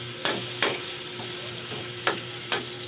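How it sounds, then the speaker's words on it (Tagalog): Mung beans sizzle steadily in hot oil in a pan while a spoon stirs them, with four distinct scraping strokes over a continuous frying hiss. "Ayan, medyo tostado na siya at lumabas na kanyang mantika. Haluin lang natin, haluin."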